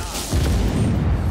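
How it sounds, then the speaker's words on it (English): An explosion in the video game Just Cause 3 erupts after a brief quiet moment, a loud low boom that rolls on as sustained rumbling to the end. "I need to see this explosion, dude."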